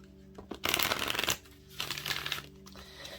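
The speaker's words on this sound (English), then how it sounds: "Let me get one more shuffle." Two quick bursts of Moonology Oracle cards being shuffled, crisp riffling and rustling close by, with a short pause between them and no talking.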